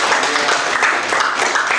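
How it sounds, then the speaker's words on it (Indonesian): Applause from a classroom audience at the close of a student group presentation, steady dense clapping filling the room for a couple of seconds with no voices over it. "kita berikan aplaus."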